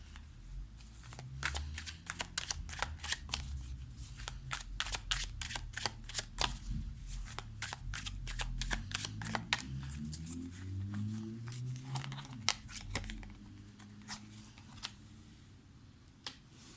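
Tarot cards are handled and laid face down in a long run of crisp, close-up snaps, slaps and riffles with an uneven rhythm, while a faint low hum runs underneath.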